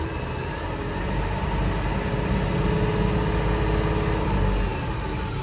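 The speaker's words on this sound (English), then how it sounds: "If I rev the engine," A diesel engine with a common-rail fuel system climbs from idle to a higher steady hum, a continuous mid-pitched drone that swells and holds, close, with no talk.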